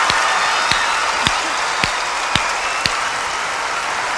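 A crowd at the 1994 women's World Team Trials gymnastics applauds a floor exercise routine with loud, steady clapping and cheering. Dull thumps cut through at regular intervals.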